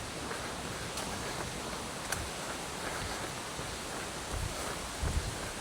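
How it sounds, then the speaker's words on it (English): Steady wind rushes across the microphone outdoors during a two-mile run, a constant broad roar with faint gusty swells and no talking. "All this wind is feeling good too."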